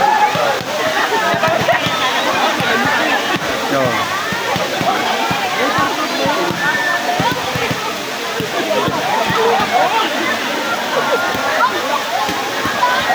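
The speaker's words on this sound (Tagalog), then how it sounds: "Pagtalon sa Daranak Falls." People jump into the cold water at Daranak Falls, with splashes buried in the constant loud rush of the waterfall as voices talk throughout.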